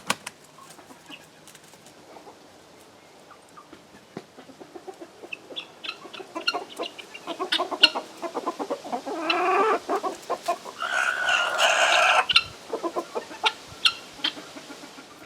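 A backyard hen and her three young chicks cluck and chatter close by in a garden. The calls start sparse and grow into busier, louder clucking and peeping toward the end, with no talking.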